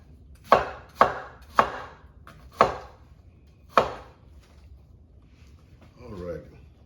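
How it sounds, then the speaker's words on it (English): A knife chops rough vegetables for pepper steak on a cutting board: five loud, close thuds spaced about half a second apart, then a quiet pause and a brief voice. "just with a little rough chop"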